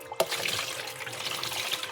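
Water splashes and trickles as a cooking pot is rinsed and washed by hand. A sharp knock comes first, then steady, close running and sloshing water with no talk.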